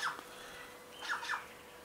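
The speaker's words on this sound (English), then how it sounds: "Oh, another magpie didn't want that one." Magpies squawk outdoors while being fed at Loch Sport, Victoria, giving a few short, faint harsh calls with brief gaps between them.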